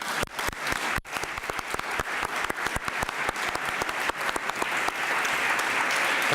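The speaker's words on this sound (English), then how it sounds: "give a big applause to the panel" An audience at a European transport conference applauds a panel: many hands clapping in a dense, crisp patter that builds and holds strong to the end, with no talk over it.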